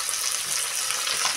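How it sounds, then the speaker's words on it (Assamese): Fish fries in a pan, producing a continuous close hissing sizzle with fine crackle, unbroken and even in level for the brief moment, with no talking. "ভাত বনোৱাৰ আগত ভাজি আছোঁ মাছ"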